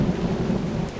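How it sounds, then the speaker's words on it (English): Thunder in the survival game Novus Inceptio, a loud, continuous low rumble mixed with rain, heard alone with no talking. "Man, what is it with games and the thunder? It's always loud."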